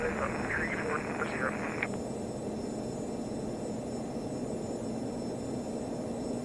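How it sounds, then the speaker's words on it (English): Airliner engines spooling to takeoff power on the runway in a flight simulator, a steady loud roar beneath brief radio-style voice chatter early on, continuing alone afterward. "Takeoff power is set."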